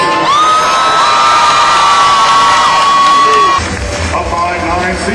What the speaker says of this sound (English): A round of applause for both teams